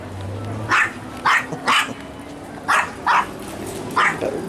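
A dog gives six sharp barks in quick, uneven succession, clear and fairly close against a low background hum.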